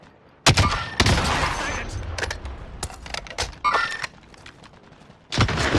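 Video game firefight with bursts of gunfire, loud sharp shots in clusters and rapid volleys over several seconds, close and punchy, with a brief pause before a final burst.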